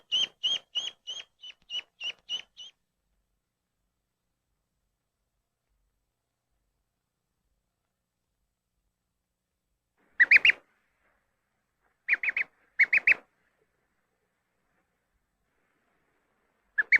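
A duckling peeps in a quick burst of about eight high calls, then after a long silence gives a few more short clusters of peeps, close and clear against a quiet background.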